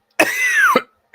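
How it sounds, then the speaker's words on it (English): A single drawn-out cough with a raspy throat-clearing quality, close and fairly loud, followed by a brief start of another cough at the very end; no other voices. "I got that cough that"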